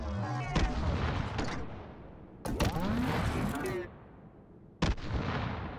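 Rockets fire in the VR shooter Hot Dogs, Horseshoes & Hand Grenades, bursting in sharp loud blasts with rumbling tails, the longest roughly in the middle, then a final crack near the end.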